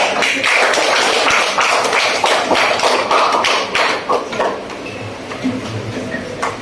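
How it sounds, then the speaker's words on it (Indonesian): Clapping from an audience at a school debate in a classroom, dense and loud at first, then thinning into scattered claps toward the end. "mari kita berikan tepuk tangan kepada dia"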